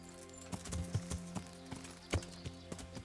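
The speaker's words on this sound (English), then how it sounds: "I'll just keep galloping through the woods" A horse gallops through the woods in a video game, its hooves landing in uneven, fairly close thuds over a low continuous game ambience.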